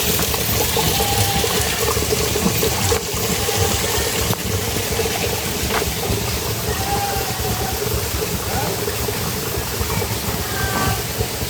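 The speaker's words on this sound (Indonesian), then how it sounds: "Ini depan rumahnya ini ada sungai kecil loh." A small river flows in front of a house in a rural village, producing a steady, close, rushing wash of water that runs unbroken throughout.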